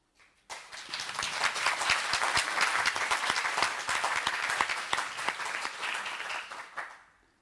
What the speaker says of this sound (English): I think that was an applause for you helping to support also.